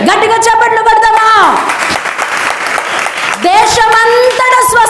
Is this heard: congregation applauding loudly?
yes